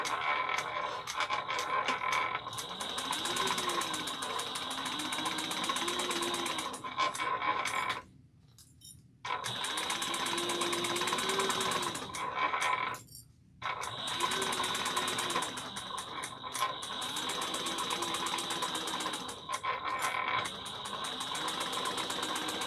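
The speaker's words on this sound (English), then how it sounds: "Make sure you back stitch beginning and end." A sewing machine runs in long steady bursts while stitching a seam on a travel bag, with two short pauses and brief reverse back-stitching at the start and end; the motor hums close and even, and no one talks.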